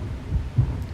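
Low, muffled heartbeat thuds from the horror video game Mimic, two soft beats roughly a quarter second apart over a dull rumbling background.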